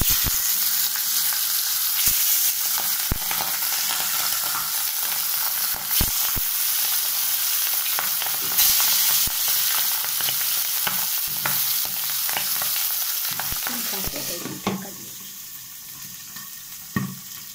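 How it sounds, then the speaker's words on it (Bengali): Boal fish fries in hot oil with a little turmeric, a continuous close sizzle broken by sharp crackles and pops scattered throughout, with no voices. "বোয়াল মাছ ভীষণ ফাটে, তার তেলের মধ্যে মাছটা ভাজার আগে তেলের মধ্যে অল্প একটু হলুদ দিয়ে দেব,"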